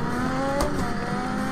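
A Lotus 98T turbo Formula One car in the Assetto Corsa racing game, its engine holding a loud, steady high-pitched drone with a brief gear-change blip, close and continuous.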